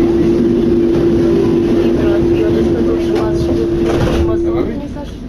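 A Citadis 302 tram, fleet number 808, runs on line T8 between César and Saint-Denis, giving a loud continuous rumble with a steady tone that fades out at the end while an onboard announcement plays.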